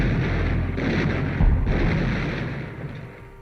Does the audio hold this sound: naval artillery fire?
yes